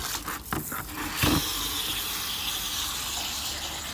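Steady rush of water pouring from a tap, a continuous hiss after a few brief knocks and splashes at the start.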